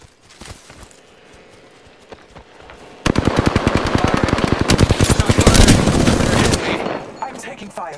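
Rapid automatic gunfire in the battle royale shooter Apex Legends: a loud, fast burst of evenly spaced shots lasting several seconds, preceded by scattered quieter shots and fading into game noise.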